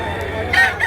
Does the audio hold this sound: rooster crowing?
yes